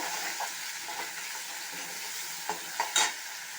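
Chopped tomatoes and onions with a sprinkle of rock salt frying in a pan for a vegetable gravy, a steady soft sizzle with a few scraping stirs and clinks of a utensil.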